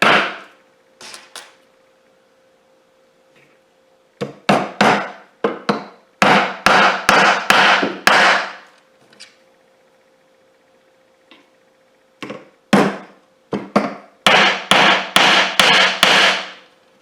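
A hammer drives a nail into wood, partly through a knot, while a bird house is assembled in a workshop. Sharp, loud blows come in quick clusters separated by short pauses.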